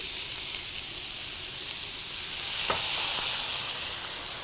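A glass of water poured into a hot pan of Guinean food sets off a loud, steady hiss of sizzling and steam, broadening with a brief bubbling burst partway through, and no talking over it.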